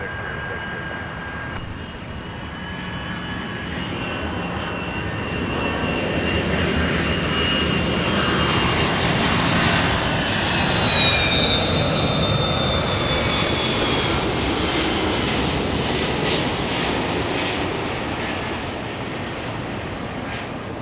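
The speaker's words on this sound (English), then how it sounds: "Nice firm touchdown." An airplane lands at Los Angeles International Airport (LAX), its engine roar swelling from a distance into a loud, sustained rush with a faint whine, then slowly easing off.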